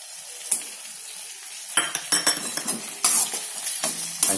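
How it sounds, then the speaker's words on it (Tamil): Tomatoes tipped into a hot pan for an idiyappam egg biryani sizzle and fry up close, with a metal spoon scraping and clinking against the pan in quick, irregular strokes. "இப்போ தக்காளி எடுத்து கொட்டிடுவோம்."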